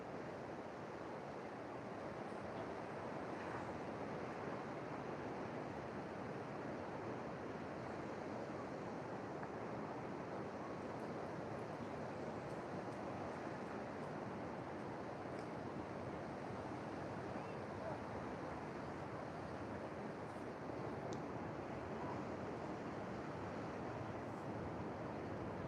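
Ocean surf at the Duramba surf spot, a continuous distant roar of breaking waves blended with steady wind rush, unchanging in level for the whole stretch, no voices.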